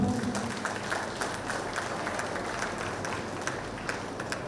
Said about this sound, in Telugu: అందరికీ ఒకసారి గట్టి క్లాప్స్ కొడదాం